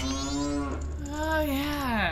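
A cow moos in The Legend of Zelda: Majora's Mask, a long, drawn-out bovine call with a pitch that dips, breaks briefly, then rises and falls again, loud and close with no talking.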